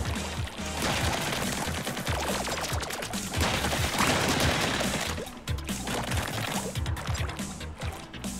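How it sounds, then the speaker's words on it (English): Dense, continuous gunfire and bursts of explosive booms from Splatoon 3 gameplay, loud and up close, with rapid shots layered together across the whole stretch. "Just shooting all around and boom!"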